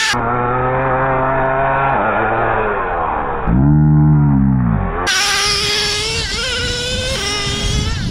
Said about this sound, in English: This thing is driving great on the sand.